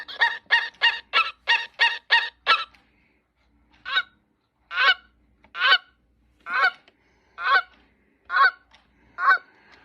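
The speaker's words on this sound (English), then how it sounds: "6 o'clock is the Canada goose." Canada goose honks from a gamebird clock chime: a rapid run of about eight loud, close honks, a short pause, then seven more spaced, evenly timed honks, with no voices.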